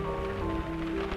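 Rain falls on leaves in a 1932 film soundtrack: a steady, even patter and hiss over a low continuous hum, unbroken throughout and with no talk.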